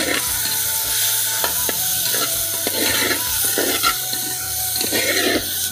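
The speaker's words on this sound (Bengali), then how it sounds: "মাছটা ভাজা হয়ে গেছে, আমি এখন তুলে নিচ্ছি।" Fish frying in a clay pot over a wood fire, a loud, dense sizzle with bubbling and occasional stirring scrapes, a low rhythmic rumble underneath, no talking.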